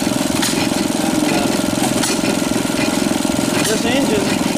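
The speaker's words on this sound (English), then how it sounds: "this engine, I'm assuming was on a washing machine or something like that, being a kickstart." An old antique kickstart engine, thought to come from a washing machine, runs with a steady rapid chugging beat, loud and close, while someone talks over it.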